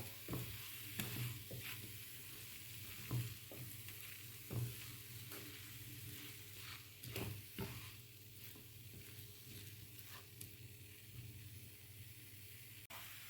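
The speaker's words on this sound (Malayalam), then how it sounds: "ഞാൻ ആ നാളികേരം ചതച്ചത് ഇതിലിട്ടുണ്ട് നമുക്ക് ഇളക്കി കൊടുക്കാം" Crushed coconut is stirred into pumpkin thoran frying in a pan, a soft steady sizzle broken by repeated scraping and stirring strokes at irregular intervals, quiet and close, with no talking.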